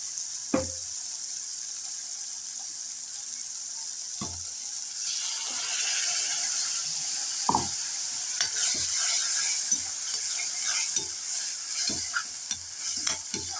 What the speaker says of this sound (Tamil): அப்படியே சட்னியை லைட்டாக வதக்கினா அந்த பச்சை வாசனை போயிடும்.